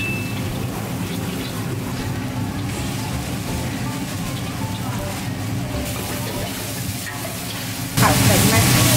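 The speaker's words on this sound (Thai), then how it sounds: "ผัดเส้นนะครับแต่ว่าไม่เคยผัดเยอะแบบนี้นะครับ" A large batch of noodles is stir-fried for a big crowd at a temple, with a steady loud sizzle and scraping stir running throughout and a burst of stronger sizzling near the end; people talk faintly.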